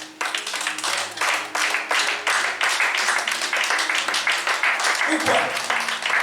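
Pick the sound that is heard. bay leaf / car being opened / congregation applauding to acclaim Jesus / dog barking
congregation applauding to acclaim Jesus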